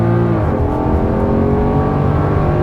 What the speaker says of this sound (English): pump the brakes, get it real fucking built up, mash the pedal,